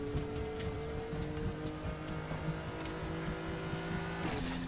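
A GT3-class race car engine drones steadily at Silverstone in a racing simulator, with a sustained, buzzing tone that holds fairly level and shifts in pitch near the end. No one speaks over it.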